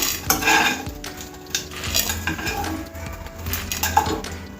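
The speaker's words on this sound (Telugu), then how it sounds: "ఇప్పుడు మనం స్టవ్ ఆఫ్ చేసుకొని ఇవి వేరే ప్లేట్లోకి తీసుకుందాము" Fried vegetables being scraped from a pan onto a plate for velakkaya pachadi, with close, irregular clinks and scrapes of a metal spoon against pots and dishes and a faint sizzle underneath.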